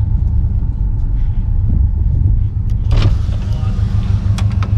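A stock Subaru STI gives a steady, loud low rumble from inside the cabin as it drives, with a few brief clicks and knocks partway through and faint speech in the background.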